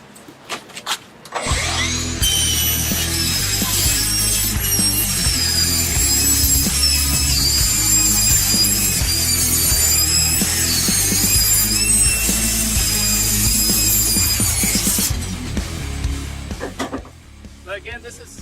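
A power saw rips through 16 gauge steel in one long continuous cut, loud and close with a high metallic whine over a steady motor drone, winding down near the end.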